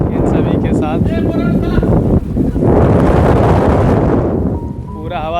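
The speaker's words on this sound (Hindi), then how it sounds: "पूरा हवा चल रहा है" Strong wind gusts roar across the microphone at the Statue of Unity, an iron and metal-alloy monument with mountains behind, loud and continuous, with a person talking over it.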